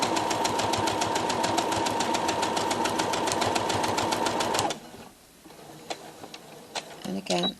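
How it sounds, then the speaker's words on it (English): A sewing machine stitches a fabric baby feeding bib, running in a steady fast rhythmic chatter for about four and a half seconds before stopping, followed by quiet handling clicks and a voice speaking. "I'm just going to back stitch a couple of stitches, come forward a couple of stitches"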